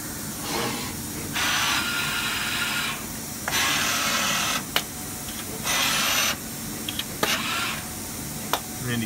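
An MPM Momentum HiE printer with its Camalot dispenser pushes paste onto a circuit board in repeated hissing bursts, each a few seconds long, broken by short mechanical clicks and ticks. The machine sounds close, with no voices.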